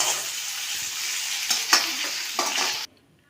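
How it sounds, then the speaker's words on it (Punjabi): Kohlrabi shallow-fries in mustard oil in a kadai with a loud, steady sizzle and a few scraping stirs, until the sound cuts off abruptly near the end. "ਇਸ ਨੂੰ ਆਪਾਂ ਲਗਾਤਾਰ ਬਣਾਉਂਦੇ ਹੋਏ ਸ਼ੈਲੋ ਫਰਾਈ ਕਰਾਂਗੇ"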